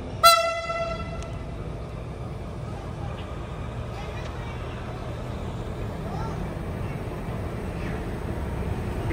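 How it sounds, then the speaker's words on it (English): A diesel train passing near an old 1902 railway site: a horn sounds at the start, followed by a steady rumble and rolling wheel noise that continues to the end. "Waiting for the train to switch."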